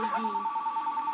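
A telephone ringing in The Sims video game: a steady electronic ringing tone held for about a second, loud and close, with a thin voice faintly over it.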